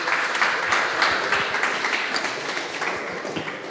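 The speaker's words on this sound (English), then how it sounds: "another round of applause." Audience round of applause at a crypto meetup, a dense patter of clapping from a modest crowd, steady and fairly close, tapering slightly toward the end.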